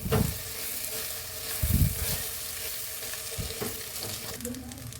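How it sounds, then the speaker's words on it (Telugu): Cooked rice being mixed in a pan for tamarind-leaf pulihora, with soft scraping and thumping strokes of a spoon over a light background sizzle, close by and uneven in rhythm. "ఇప్పుడు ఈ రైస్ని బాగా మిక్స్ చేసుకోవాలి."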